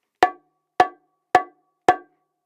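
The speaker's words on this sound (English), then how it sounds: "now it's sounding like a set of bongos" Four sharp, evenly spaced strikes on a freshly tuned set of bongos, the high macho drum among them, each a bright, quickly decaying knock played alone.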